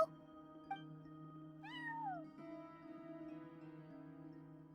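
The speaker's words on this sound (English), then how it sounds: "No one except for a cat watching over the front desk." A cat gives a single clear, rising-then-falling meow at a hotel front desk in the video game Genshin Impact, over soft, steady game music.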